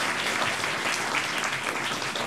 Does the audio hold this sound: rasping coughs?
no